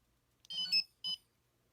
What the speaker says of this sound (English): And you saw the 3 quick beeps.